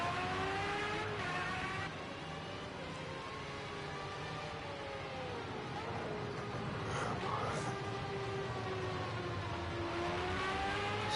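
Formula A open-wheel race car engine in Project Cars 2 at Red Bull Ring, a loud continuous high-pitched whine that rises and falls through gear changes, with a second engine passing around the middle.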